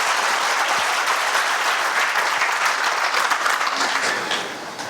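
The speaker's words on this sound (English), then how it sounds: "So please give a round of applause to Allison Bales." A crowd gives a speaker a sustained round of applause at a summer camp gathering, loud and continuous clapping from many hands that fades slightly near the end.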